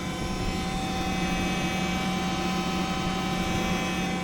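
A Volvo EC60E excavator fitted with a Fecon FMX36 mulcher attachment runs at full throttle, producing a loud, constant droning engine and hydraulic roar with steady tonal whine, uninterrupted for the whole stretch.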